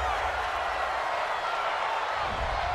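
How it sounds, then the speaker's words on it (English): A home stadium crowd at an NFL game, Seattle Seahawks against the Los Angeles Rams, cheering a penalty call: a steady, broad roar of many voices that holds at the same level throughout. "This home crowd, they're happy with that call."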